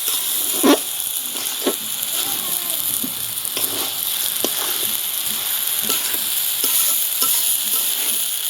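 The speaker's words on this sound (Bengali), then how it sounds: "এখানে চাউলটাও ভেজে নেব" Raw rice frying in oil together with peas and carrots in a pan, a steady close hiss of sizzling under repeated scraping stir strokes, with brief faint talk in places.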